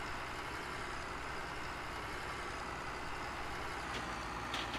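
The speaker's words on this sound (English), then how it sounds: "Let me just move the tractor here." Tractor engine in Farming Simulator 17 drones steadily at a low idle, a continuous even rumble throughout with a faint hiss near the end.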